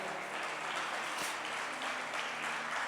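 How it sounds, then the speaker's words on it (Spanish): A church congregation applauds during a Spanish-language sermon, steady dense clapping that stays at an even, moderate level throughout, with no speech over it. "Denle un aplauso al Señor, hermano."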